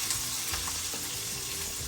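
Hot tempering sizzles and crackles steadily as it hits a pan of homemade squash pickle, a continuous close, bright frying hiss with small pops throughout and no voices.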